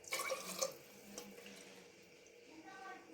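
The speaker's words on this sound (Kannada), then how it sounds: "ನೋಡಿ ಬೌಲ್ ಐದು ಅಷ್ಟು ನೀರು ಹಾಕಿ" Water pours from a tap into a pot of washed rice and dal for khichdi, a steady splashing stream that starts strong and then settles into a softer trickle, heard close up.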